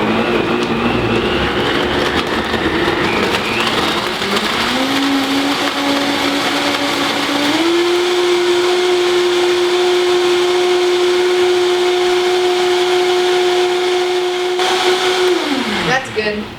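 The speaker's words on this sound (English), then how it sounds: "It beats the heck out of any blender I ever had before." A high-powered blender making a smoothie starts low, then its motor whine climbs in two steps to a steady loud high-speed roar that holds for several seconds before winding down at the end.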